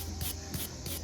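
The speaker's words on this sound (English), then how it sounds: "I'll put some PB Blaster on in the hopes that it'll slide right through" PB Blaster penetrating oil sprayed from an aerosol can onto a rusty bolt during strut and control arm work, a few quick faint hissing spurts in a row.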